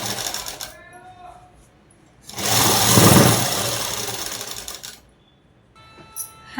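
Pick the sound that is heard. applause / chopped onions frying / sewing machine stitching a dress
sewing machine stitching a dress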